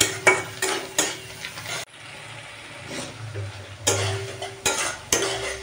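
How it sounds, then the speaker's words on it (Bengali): Onion and chili fry in oil in a pan while a utensil stirs and scrapes, a soft sizzle under repeated clinking strokes that come in irregular bursts. "ওই যে পেঁয়াজ লঙ্কাটা এখানে তেলে দেখো আমি ভেজে নিচ্ছি।"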